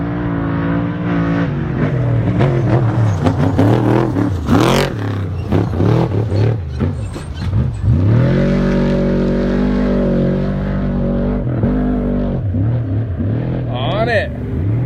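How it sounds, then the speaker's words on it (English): A four-wheel drive race vehicle accelerates hard through sand during qualifying at the 2018 Parker 425, its engine roaring loud and close with rising revs, while a commentator talks over it. "Pedal on the throttle. This would be Matney in the four-wheel drive."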